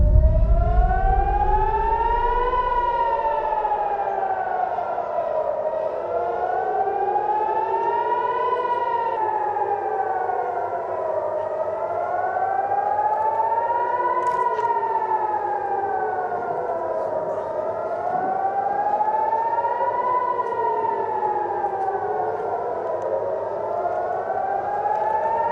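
Civil defense air raid sirens in Israel wail continuously, rising and falling in slow, overlapping cycles, loud and sustained throughout with no voices.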